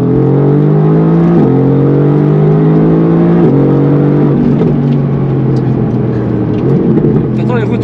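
A Mercedes-AMG GT R's turbocharged V8 pulls hard at full throttle, its loud, close engine note climbing steadily through several quick upshifts, each marked by a brief dip before the rising roar resumes.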